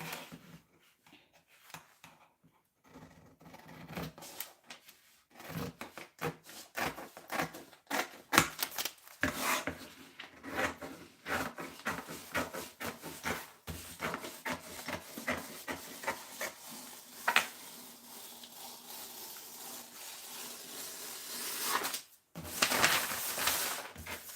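Scissors cut fabric for flare circle pants in a series of irregular, close snipping and rustling sounds, separated by short pauses, with no talking.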